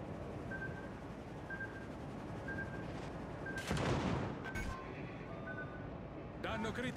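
Naval guns firing shells in World of Warships: Legends, with a heavy booming salvo midway and another burst of gunfire near the end over a steady game soundscape with beeping interface tones.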